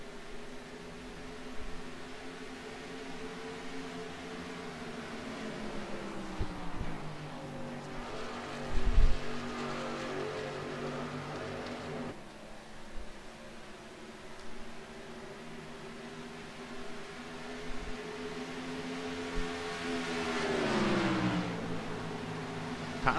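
Race cars in a sim racing video game on the final lap of an oval race, with several engine drones layered together and rising and falling in pitch as the cars come off a turn. The loud, steady roar fills the whole stretch.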